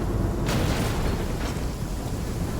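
Explosion in the video game Genshin Impact, a loud rumbling blast with a sharp burst at the onset, then a continuous dense roar that stays steady to the end.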